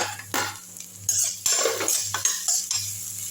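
Capsicum sautéed and stirred in a pan, a metal spatula scraping and clanking against the pan in quick bursts over a soft sizzle, close and fairly loud, with a faint low hum underneath.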